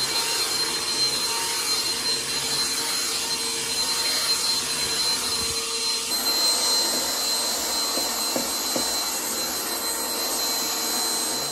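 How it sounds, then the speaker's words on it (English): A vacuum cleaner runs continuously with a steady high-pitched whine and airy roar, its tone shifting partway through as the nozzle moves. "I want to vacuum this before I do anything else."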